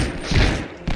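Pistol fire from the PS1 shooter Medal of Honor: Resistance, a couple of dull, thumping game shots in quick succession over a busy, noisy background.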